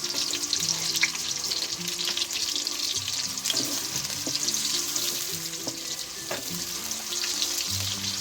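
Onions sizzle and crackle steadily in a hot pan, a continuous close frying hiss with occasional light pops and clinks.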